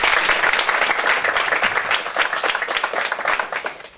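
A crowd at a youth association's 15th anniversary celebration in Sweden bursts into loud, full applause. It lasts about four seconds and tapers slightly toward the end.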